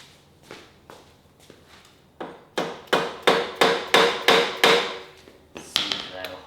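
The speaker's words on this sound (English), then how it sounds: "Maybe give a little smack with a hammer." Hammer smacking a part on a 2025 Yamaha Raptor 700R SE ATV build, a run of about a dozen sharp metallic blows in quick rhythm, starting light and growing heavier, close and clear with no talk.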